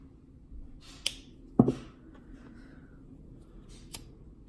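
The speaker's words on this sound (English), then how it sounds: "if you have a wire sticking out, just cut it off." Scissors snip off a wire poking out of ribbon, giving a few quiet, sharp clicks, the loudest one in the middle, against a soft room background.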